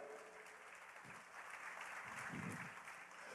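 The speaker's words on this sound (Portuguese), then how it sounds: "Aplauda, queridos, aí é que você tem que aplaudir." Church congregation applauding during a worship service, a steady wash of clapping with a few faint low voices mixed in, moderately distant and fairly quiet.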